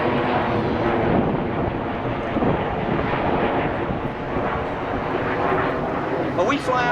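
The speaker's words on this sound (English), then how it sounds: "all 9 jets will now smoke in the diamond roll" Jet engines of the Red Arrows roar continuously as nine jets fly a smoking diamond roll at an air display, a broad, wind-buffeted rumble with a commentator's voice talking over it throughout.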